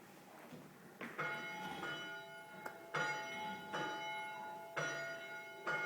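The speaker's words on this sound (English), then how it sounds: "I will ring the bell and you can get a sense of that" A chapel bell rung by pulling a rope tolls four times at an even, unhurried pace, each ring bright and sustained and overlapping the fading tail of the one before, with no voices.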